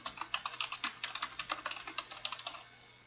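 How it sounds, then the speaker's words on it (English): Rapid clicks of keys on a computer keyboard, close and fairly quiet, tapping in an uneven rhythm for a few seconds. "and begin typing."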